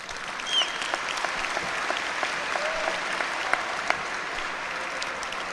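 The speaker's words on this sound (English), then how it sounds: "And that actually deserves a round of applause." Steady, dense applause from a large crowd fills a high school graduation ceremony, sustained and even throughout with a few sharper claps standing out.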